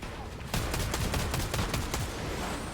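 Rapid gunfire in the Fortnite video game: a steady string of shots for a couple of seconds, close and fairly loud over a continuous game background.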